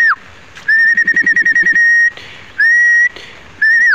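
Pigeon calling with long steady whistle-like notes in three bursts, the first with a rapid pulsed flutter beneath it, loud and close with no talk.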